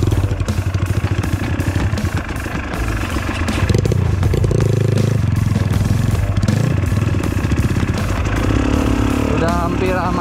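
A motorcycle engine revs loud and close, clattering steadily and climbing in pitch as it accelerates. A person shouts over it.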